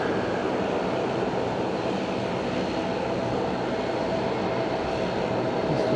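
A Peach airliner arriving from Okinawa lands at Fukuoka airport, a broad, steady roar of jet engines that stays loud and unbroken throughout, heard from a distance with no talk.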